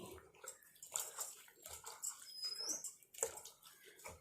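Hibiscus flowers are rubbed and squeezed by hand in about a glass and a half of water, giving soft wet squelches and sloshes in uneven bursts, close up and fairly quiet.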